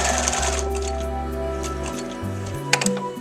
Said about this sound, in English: I just start stitching and go around the outline first